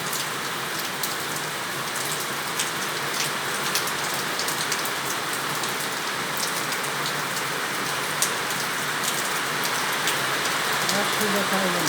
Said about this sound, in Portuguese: A chuva caindo.